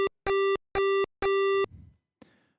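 LSDJ chiptune square-wave plucks sound as three evenly spaced, bright buzzy tones, followed by a short softer decaying blip and a faint final click.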